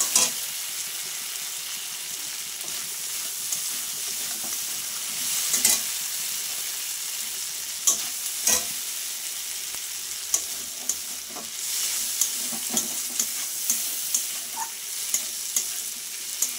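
Shrimp stir-fry in a pan with a steady hiss of frying oil, punctuated by irregular clicks and scrapes from the spatula that grow more frequent toward the end.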